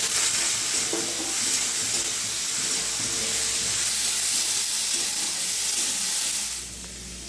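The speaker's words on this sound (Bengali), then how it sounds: "দিয়ে দেবো হলুদ, আলুটা ভালো করে ভেজে নেব।" Potatoes frying in oil with turmeric, a loud continuous sizzle and hiss with light stirring scrapes, steady throughout before easing off at the end.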